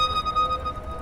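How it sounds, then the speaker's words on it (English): A VanMoof e-bike's electronic horn sounds a steady, loud, high tone for about a second, with wind and road noise underneath while riding. "Oh, there's also a horn. Let's see if it works."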